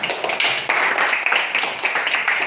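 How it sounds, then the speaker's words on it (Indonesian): Classroom of students clapping together for a classmate, a dense, close burst of rapid hand claps lasting a couple of seconds with little else heard. "Beri tepuk tangan dulu untuk temannya."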